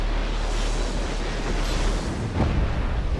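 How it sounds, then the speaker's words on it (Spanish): A big explosion in the video game Just Cause 3 gives a steady, loud, broad rumble that fills the whole stretch with no clear single blast, and no one talks. "Fíjense la explosión que causó eso."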